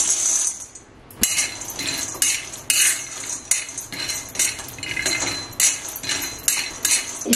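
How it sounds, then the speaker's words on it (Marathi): Peanuts are tossed into a hot iron kadhai for dry roasting, giving repeated sharp metallic clinks and rattles as they are stirred around the pan, close and fairly loud. "तर आता आपण आहे ना याच्यात शेंगदाणे टाकूया।"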